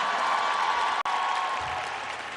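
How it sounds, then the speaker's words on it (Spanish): Applause in Mexico City welcoming President Claudia Sheinbaum to a national gathering of women's lawyers. Dense, sustained clapping from a large crowd holds at a loud level, breaks off for an instant near the middle, then continues and eases slightly. "Un fuerte aplauso"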